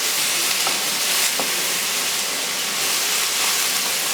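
Onions frying and caramelizing in a pan over high heat, giving a constant loud sizzle and hiss with a few faint stirring scrapes, close up and without speech.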